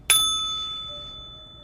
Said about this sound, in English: Take a deep breath in when I hit the bell.